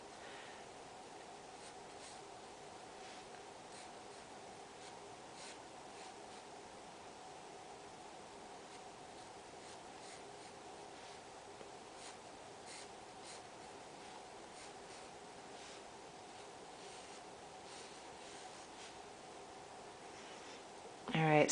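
A pencil moves across paper while someone draws a hand, giving a soft, continuous scratching that stays faint and even throughout.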